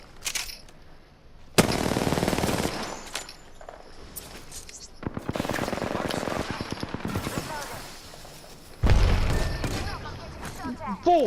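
Bursts of shotgun and rapid gunfire blast through Apex Legends gameplay, loud clustered volleys separated by quieter gaps, with quick rhythmic shots and mechanical clicks between them.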